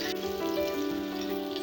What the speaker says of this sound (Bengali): ভালোভাবে নেড়ে 4 ভাগে প্রায় 3 ভাগ ভেজে ভেজে নেব।